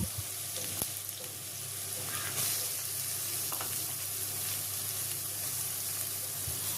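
Chopped onion frying in hot oil with bay leaves and whole garam masala for a spicy chicken-skin curry, a steady close sizzle running throughout with occasional scrapes and knocks of stirring.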